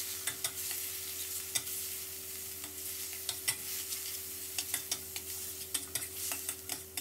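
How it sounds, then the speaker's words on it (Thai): Minced pork stir-fried in a pan for stuffed tofu, a soft continuous sizzle with a faint steady hum beneath and frequent sharp spatula taps and scrapes against the pan. "ตามด้วยหมูสับ200กรัมแล้วก็ให้เราผัดหมูรอให้สุกเลยนะครับ"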